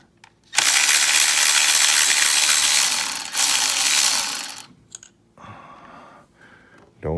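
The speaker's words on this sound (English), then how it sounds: "let's go ahead and loosen the 10mm bolt" A ratchet loosens a 10mm bolt on the solenoid of a 2009 Toyota Corolla S, a loud sustained ratcheting whir lasting about four seconds, followed by quieter clicks and a short metallic rattle.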